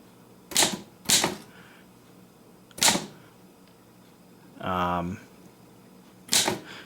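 An early typewriter clacks with sharp, isolated key strikes spaced irregularly, plus a brief buzzing mechanical whir partway through, close and loud in a quiet room.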